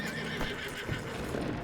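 A Tennessee Walker horse in the video game Red Dead Redemption 2 gives a short whinny over hoof clops, a brief, close, fairly quiet snort-like call lasting under two seconds.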